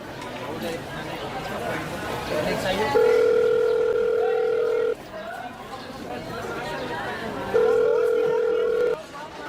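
A telephone ringback tone sounds in two long steady buzzes several seconds apart during an outgoing call, close and clear over background chatter, with people talking around it.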